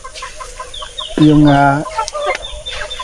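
Native heritage chickens cluck close by, one loud drawn-out call standing out over softer clucks and bird chirps, with a brief spoken word mixed in.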